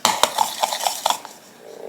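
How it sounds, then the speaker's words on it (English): A spoon stirs and mixes creamy Tuscan chicken in a slow cooker, making a quick series of sharp clinks and scrapes against the pot that fade to quiet toward the end. "Now it's time to mix."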